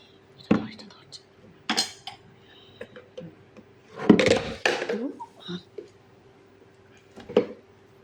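A metal spoon clinks and scrapes against a kadai while ghee goes in for cooking carrot halwa, giving a few short, separate bursts with quiet gaps between them.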